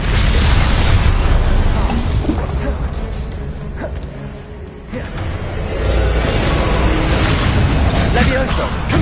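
Spell combat in Hogwarts Legacy on PlayStation 5, with an Expelliarmus cast amid dense, loud magical booms, bursts and whooshes that swell, dip briefly midway and surge again, while voices call out over the din.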